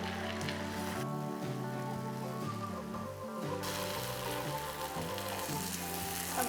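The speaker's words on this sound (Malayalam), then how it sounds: "ഇനി ഹൈ ഹീറ്റിൽ ലൈറ്റ് ബ്രൗൺ കളറാകുന്ന വരെ, ഇച്ചിരി ഒരു ബ്രൗണിഷ് ടിൻ്റ് ആകുന്ന വരെ ഫ്രൈ ചെയ്തെടുക്കാം." Chicken fries in oil over high heat, giving a steady, continuous sizzle with tonal background music running underneath.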